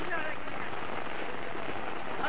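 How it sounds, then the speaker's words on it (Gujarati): Rain falling steadily at Ambaji, Gujarat, a dense, even hiss of drops on surfaces that stays continuous and fairly quiet throughout. "અંબાજી ખાતે જે રીતે વરસાદ પડ્યો હતો"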